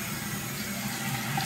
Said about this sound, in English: I'm gonna turn the hot water off now